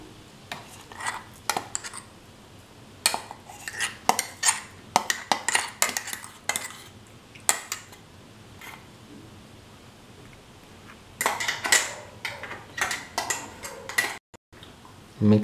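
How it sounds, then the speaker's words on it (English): Fish pieces being mixed by hand with a ground spice paste in a dish, giving irregular clinks and scrapes against the vessel in bursts, with pauses between them and quiet background room noise. "Mix the ground mixture with the fish"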